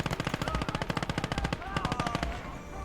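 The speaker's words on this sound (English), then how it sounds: "That machine gun has just been outstanding." A machine gun fires in long rapid bursts during a WWII video game battle, loud sharp reports in quick rhythm with a brief pause midway, alongside other battle noise.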